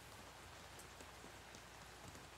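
Steady rain falls continuously on a surface, a dense even hiss with scattered individual drop taps, unbroken and alone throughout.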